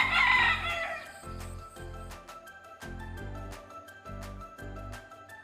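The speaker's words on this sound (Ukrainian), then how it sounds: "Ходить півник по лужку і кричить Кукуріку" A rooster crows once near the start, followed by a bouncy rhythmic music backing with steady repeated beats.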